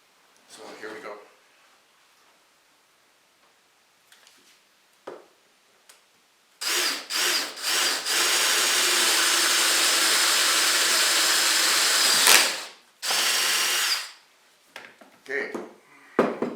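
Power drill boring a hole through the handle of a plywood cup held in a support jig, a loud steady whine lasting several seconds, stopping briefly and resuming, with short handling noises and knocks before and after.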